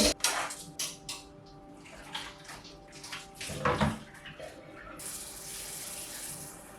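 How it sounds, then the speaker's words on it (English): Alum-mordanted wool yarn being rinsed in a sink, with splashing water and soft knocks at first, then a steady rush of running tap water, close by and without talk. "I'm gonna take that over to the sink and rinse out all of the alum"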